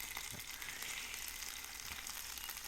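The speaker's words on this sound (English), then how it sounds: "initially it's on high heat, and we're gonna give it a light sear" Salted and peppered pork steaks sear in an oiled, warped pan on high heat on an electric stove, giving a faint, steady hiss of frying with a few soft knocks.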